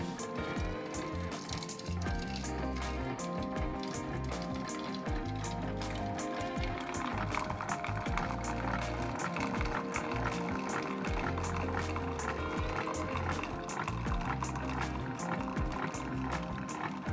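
A Keurig coffee maker running clean water through its system, giving a continuous gurgling, splashing stream of water with rapid faint ticking throughout, steady and fairly quiet.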